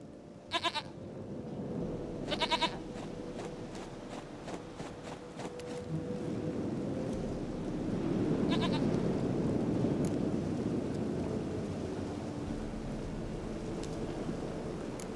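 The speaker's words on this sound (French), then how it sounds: "Une chèvre à moi, Gentille," A goat bleats in the video game The Witcher 3: a few wavering cries come near the start and again a little later, set against a low, rumbling ambient backdrop with no talk.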